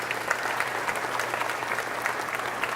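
An audience applauds at the inaugural exercises of a physician assistant studies class. Thick, sustained clapping from a large crowd carries through the whole stretch with no voices on top.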